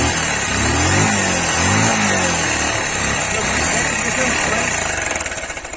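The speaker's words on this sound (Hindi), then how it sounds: "करने के बाद व्हीकल्स आराम से स्टार्ट हो जाएगा, आप देखना" A motorcycle engine fires up and revs after its red ignition coil cable is reconnected, a loud, close, rough running note with rising and falling revs that continues steadily before fading slightly near the end.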